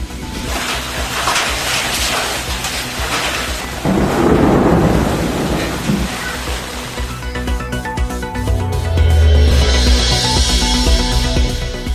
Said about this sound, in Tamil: சிவகங்கையில் பலத்த காற்றுடன் பெய்த ஆலங்கட்டி மழை.